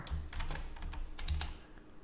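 Typing on a French computer keyboard: rapid, close keystrokes clatter in quick bursts with a short pause between runs, steady and fairly loud throughout.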